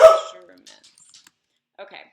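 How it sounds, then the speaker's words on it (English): A dog barks once, loud and close, at the very start, followed by a short stretch of quiet indoor talk. "Sorry about my dog barking."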